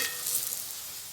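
Potato pieces fry in hot oil with a soft, steady sizzle, close and fairly quiet, with no voices over it.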